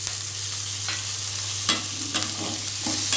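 Onions and tomatoes sautéing in a pan for chicken gravy give a continuous close sizzle, broken by several soft scraping stirs of a spoon, with no talking.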